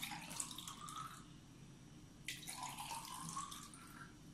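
Water runs and splashes into a container of wheat for sprouting in two close pours, a steady trickling rush with a short pause between them.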